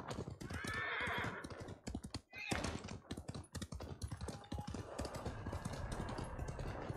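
A horse in the Ghost of Tsushima video game gives a brief whinny among rapid hoof clip-clops and rhythmic clicking, while a voice speaks briefly in between.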